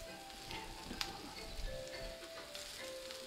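Greens sizzling in a hot pan with sesame oil, a steady soft frying hiss with faint crackles and an occasional pop, close but fairly quiet, without any voices.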